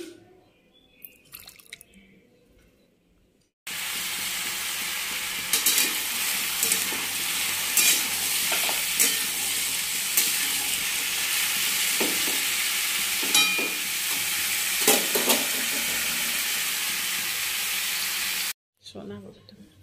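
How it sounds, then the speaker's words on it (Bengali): Potatoes sizzle loudly and steadily frying in hot oil, with occasional clicks of stirring; the sizzle starts abruptly and cuts off near the end. "আমি টিফিনের জন্য আলু ভাজা করছি"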